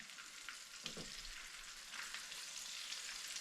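Bluegill and crappie fillets fry in oil, a steady faint sizzle hissing throughout with one brief sputter, heard alone without talk.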